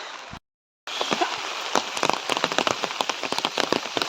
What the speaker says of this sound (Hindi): अब भयंकर वाली बारिश लगी भाई देखिए